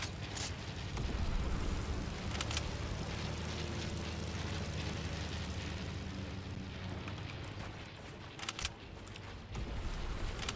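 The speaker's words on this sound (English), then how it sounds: "What kind of human being uses a plane in sniper shootout?" Propeller airplane engine droning steadily through a sniper shootout in a video game, a loud continuous broadband roar filling the whole stretch with a few sharp bursts and cracks layered on top.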